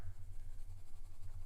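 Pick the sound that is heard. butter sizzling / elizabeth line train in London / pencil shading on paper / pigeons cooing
pencil shading on paper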